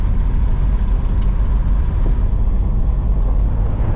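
A 1968 Chrysler Imperial with a 440 engine cruises on gravel at around 50 mph on worn junk tires, a steady loud low rumble of engine and road noise filling the interior without pause.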